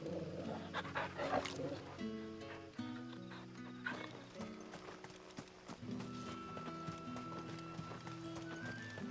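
A dog in Final Fantasy XVI barks and moves about near hooves clip-clopping, with game music running underneath and no clear talking.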